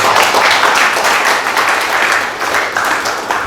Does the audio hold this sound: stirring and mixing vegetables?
no